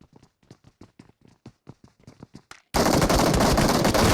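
Gunfire in a battle-royale video game: a run of about fifteen short, evenly spaced shots, followed by a sudden loud burst of continuous rapid fire.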